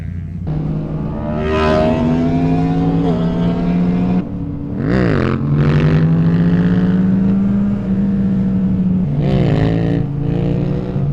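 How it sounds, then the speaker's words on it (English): A car's exhaust revs repeatedly close by, the engine note climbing and falling in several sharp bursts over a loud continuous drone, heard near a Yamaha MT-09 motorcycle on the road. "stop fucking revving your exhaust on me"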